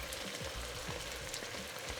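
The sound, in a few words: tomato paste sizzling with softened vegetables in a pan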